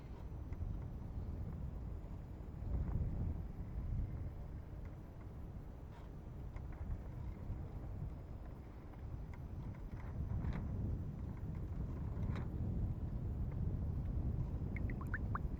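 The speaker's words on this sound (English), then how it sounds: "I'm going to hit some wind, stronger wind coming up here." Dragonforce 65 model sailboat out on the water, with strong low wind rumble buffeting the onboard microphone and swelling in gusts alongside faint water wash, continuous and loud.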